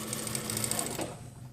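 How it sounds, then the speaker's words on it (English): A sewing machine stitching the back seam of a jacket, a steady close mechanical whir with a fast, even needle rhythm that slows and fades near the end. "we're actually going to sew up to this point here"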